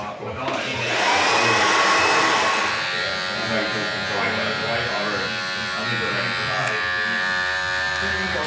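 A barbershop blower roars loudly and steadily, blasting cut hair off a client's neck after a skin fade, with its whine rising early and then holding at a constant drone.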